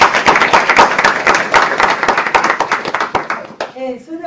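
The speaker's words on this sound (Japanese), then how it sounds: "本当に盛大な拍手ということで。" Audience at a lecture hall event applauding two speakers, dense steady clapping from many hands that fades out near the end as a voice starts talking.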